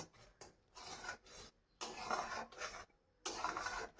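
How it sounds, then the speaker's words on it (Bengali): Powdered milk is stirred into a modak mixture in a pan, producing soft, scraping, rasping bursts in uneven strokes with short pauses between them, close and quiet, with no voices. "গুঁড়ো দুধ দিয়ে এটাকে নাড়তে থাকতে হবে কনস্ট্যান্টলি যাতে এটা কখনোই দলা পাকিয়ে না যায়"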